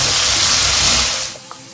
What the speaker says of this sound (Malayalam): ഇഞ്ചി, സവാള എല്ലാം കൂടി വഴറ്റും.